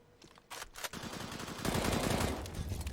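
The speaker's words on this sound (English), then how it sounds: "The spray from Taz." Rapid M4 rifle spray in a Counter-Strike: Global Offensive match, with a sustained burst of close gunfire that builds and grows louder after a few scattered shots.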